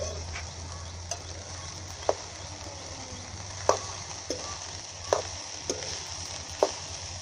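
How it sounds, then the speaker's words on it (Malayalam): Capsicum masala fried rice stirred in a pan, a spatula scraping and tapping the metal in sharp, irregular knocks every second or so over a steady low sizzle and background hum. "റൈസ് ഇട്ട് കൊടുത്തതിന് ശേഷം നമ്മളൊരു 1 മിനിറ്റ് 1-2 മിനിറ്റ് നല്ലതുപോലെ ഒന്ന് ഇളക്കി കൊടുക്കുക."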